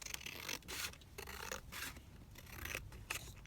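Scissors trimming paper ephemera for a junk journal, close quiet rasping cuts in short repeated strokes with brief pauses.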